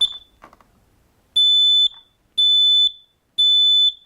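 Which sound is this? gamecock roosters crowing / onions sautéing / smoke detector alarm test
smoke detector alarm test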